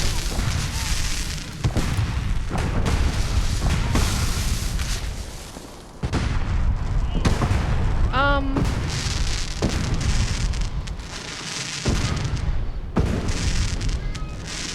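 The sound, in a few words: explosions overhead in the video game Fallout 4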